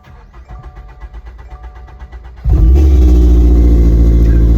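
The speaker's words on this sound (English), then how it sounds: "Let's turn the car on right now." A Toyota GR86 sports car engine with a fault cranks with a rapid starter whir for a couple of seconds, then catches and roars into a loud, steady idle.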